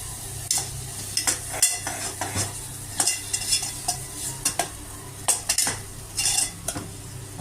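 Masala sizzles in hot oil for Andhra-style chana masala while a spoon scrapes and clinks against the pan in irregular stirring strokes, close and fairly loud.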